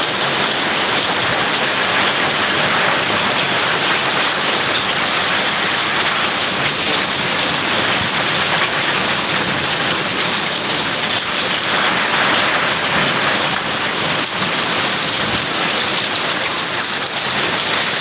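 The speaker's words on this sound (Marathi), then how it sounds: "जळगाव या ठिकाणी पावसाला सुरुवात झालेली आहे आपण बघत आहात" Rain falling in Jalgaon during a windy storm, a constant, even hiss of heavy rainfall on surfaces, close and uninterrupted for the full length with no voices.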